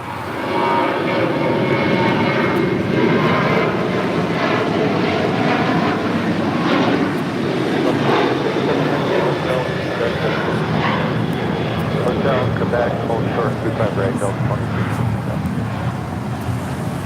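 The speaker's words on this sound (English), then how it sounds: "This is Alaska 1315 taking off to Portland on a 737-800." Alaska Airlines Boeing 737-800 taking off at LAX, its jet engines roaring loud and steady for the whole stretch, a broad sustained rumble with no break.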